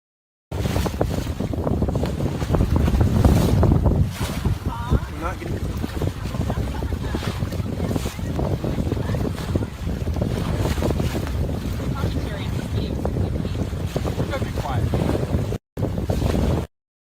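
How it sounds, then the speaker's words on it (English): A sailboat moves through a fog bank with strong wind buffeting the microphone and water rushing along the hull, a loud, steady roar that lasts for most of the recording. "shot that video while we were sailing in this amazing fog bank"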